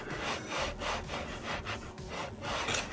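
A 3D-printed part is rubbed smooth by hand in quick, repeated scraping strokes, close and even in rhythm, with no voices.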